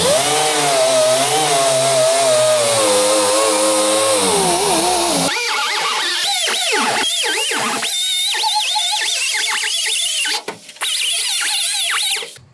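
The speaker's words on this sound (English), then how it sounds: "It's gonna be kind of rusty. We're gonna wire wheel it first," Wire wheel scrubbing rust off a 1960s GMC/C10 truck panel, a loud continuous whining grind with a wavering pitch for about five seconds, then rough scraping bursts and clatter as the tool works and winds down.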